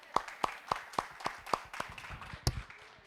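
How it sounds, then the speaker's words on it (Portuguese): A few people in a church congregation clap in a slow, spaced rhythm of about a dozen sharp claps, fairly close, with a louder single clap near the end and no talking over it. "Vamos aplaudir o Senhor pela vida dos irmãos?"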